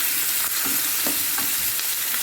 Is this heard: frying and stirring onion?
yes